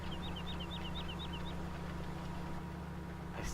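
A modded tractor engine idles in Farming Simulator 17 with a steady low mechanical rumble, while a quick chirping warble sounds briefly at the start.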